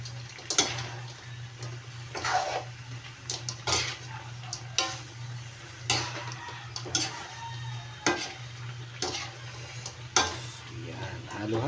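A spoon stirs turtle snake cooking in coconut milk in a pan, giving regular scraping clinks against the metal every second or two over a steady low simmer, close by with no talking.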